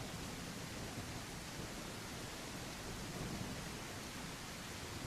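Heavy rain in The Isle survival game pours as a steady, even wash of hiss that stays faint and unchanging throughout, with no talk.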